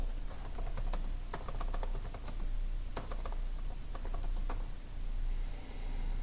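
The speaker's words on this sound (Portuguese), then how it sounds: "aqui eu vou digitar a senha para o usuário Guest" A password is typed on a computer keyboard, a fast run of crisp, close key clicks in uneven bursts over a steady low hum, with no voices.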